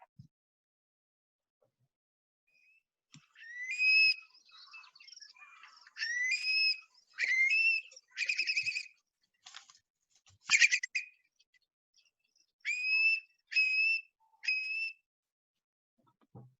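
Long-billed curlew (Numenius americanus) calling: clear, rising whistled notes in several bursts of repeated calls, moderately loud over an otherwise quiet outdoor background.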